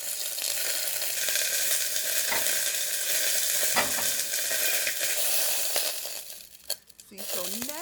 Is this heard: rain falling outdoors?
no